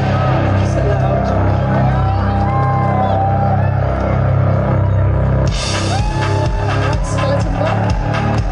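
Loud live concert audience at a 2018 show in New York City, a dense roar of cheering and shouts over a steady pulsing music bed, swelling even louder about halfway through.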